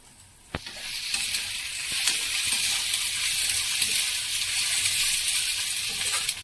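Onions fry in a pan until browned, a loud close sizzle that starts with a sharp click and then holds as a dense steady hiss to the end.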